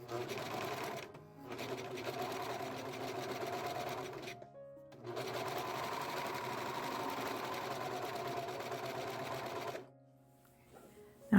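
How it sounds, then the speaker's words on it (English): A serger stitches and trims along the edge of monk's cloth foundation fabric, a loud rapid mechanical whir running in long bursts with short pauses between, close up. "Now I have that trimmed and serged all the way around"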